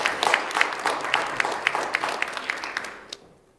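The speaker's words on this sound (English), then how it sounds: "She deserves a real round of applause." Applause rises for a guest author on a TV program, a dense patter of clapping with distinct sharper claps that thins out and fades near the end, heard alone without speech.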